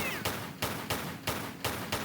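Pistol fire in Tomb Raider Remastered: a steady rhythm of about six evenly spaced sharp shots, close and moderately loud, with no talking.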